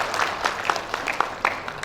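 Applause from the audience at a bachelor's graduation ceremony of a technology college in Dumai, a small group clapping with sharp, distinct claps in a loose rhythm, fairly close and moderate in volume.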